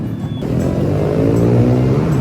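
An electric jeepney passing on a road in Mabalacat, a steady, fairly loud motor-vehicle drone that swells slightly as it goes by, with no talk over it.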